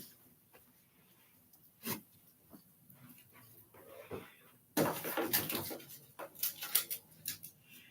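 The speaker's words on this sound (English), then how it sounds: "My dog is also whining." A pet dog whines and whimpers softly indoors, with short faint cries early and a louder run of whining and rustling in the second half. There is no talking over it.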